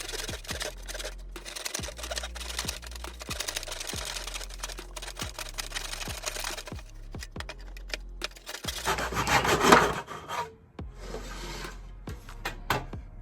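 Hand saw cutting floor trim at a 45-degree angle in a miter box, close rhythmic rasping strokes repeating steadily, then a brief louder scrape and a few lighter final strokes.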